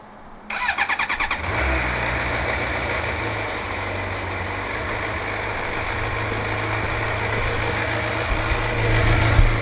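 A car engine is started after sitting through winter storage, with a rapid cranking stutter that catches into a steady, close idle with a low rumble and a slight rise near the end.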